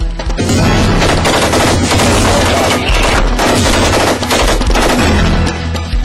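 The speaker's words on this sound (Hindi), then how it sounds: "नाटो फौज की तड़तड़ाती गोलियां" Loud, sustained NATO machine gun fire in Afghanistan, rapid bursts of gunshots rattling continuously with heavy booming, no voices.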